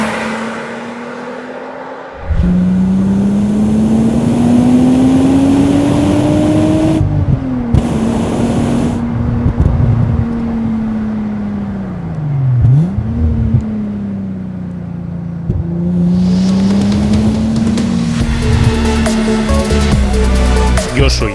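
A Volkswagen Corrado VR6 engine revs repeatedly, rising and falling in pitch through several gear changes with a strong low growl, loud and close as the car drives.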